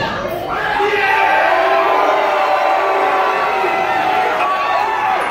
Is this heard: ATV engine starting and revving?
no